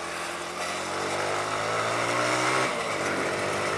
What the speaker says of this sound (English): Just flipping the throttle there on the downshifts.